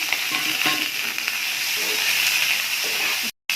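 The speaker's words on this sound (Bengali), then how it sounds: "ভাজা ভাজা করে নেব সয়াবিনটা।" Soya chunks fry in a pan with bay leaf, dried chilli and cumin, giving a bright steady hissing sizzle with light stirring scrapes, close and loud, cutting out briefly near the end.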